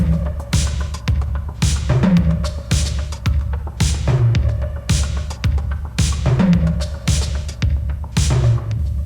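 A produced drum pattern for a drag show track plays in a strict repeating loop, punchy low kicks and sharp snare-like hits with a tonal thump, loud and close without voices.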